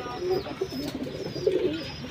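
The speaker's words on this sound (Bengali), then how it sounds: "এক জোড়া লাল পাত্তি কবুতর দিয়ে ফ্যামিলি প্যাক" A pair of Lal Patti pigeons cooing in short, soft repeated calls close by, over light background noise.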